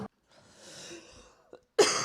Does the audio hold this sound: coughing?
yes